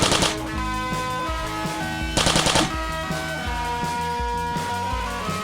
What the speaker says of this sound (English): Let's use the bolt cannon.